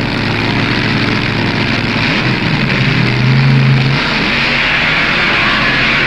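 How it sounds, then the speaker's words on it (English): Gas-burning and nitromethane-burning dragsters at the 1966 NHRA U.S. Nationals make a loud, continuous engine roar with a rising, revving pitch midway, heard without any talk. "in a dragster burning nitromethane"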